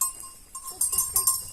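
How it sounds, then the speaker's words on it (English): Goats on a Portuguese homestead give short bleats close by, with a light bell tinkling, over about a second and a half. "Come on, goats."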